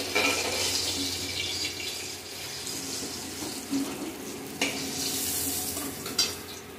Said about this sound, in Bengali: বাকি মাছগুলো এইভাবে ভেজে নেব